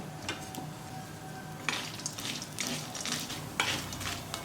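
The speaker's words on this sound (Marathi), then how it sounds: "असं थोडंसं तूप टाकून भाजून घेऊ चांगले" Small almond pieces roast in ghee in a pan for dinkache ladoo, making a soft, steady sizzle with a few light metallic scrapes and stirring clicks close by, with no talking.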